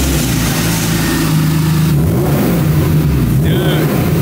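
BMW engine with an equal length mid pipe exhaust, revving loud and close in a deep, beefy drone that rises and falls and settles toward idle, with no voices.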